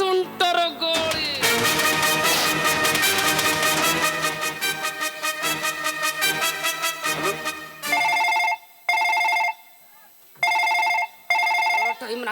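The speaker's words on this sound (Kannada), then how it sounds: "ಫೋನ್ ಬಂದೈತಿ ನೋಡು ಬಾ" A telephone rings with a repeated electronic ringtone during a stage drama scene, sounding in several even bursts at the end after a stretch of loud music.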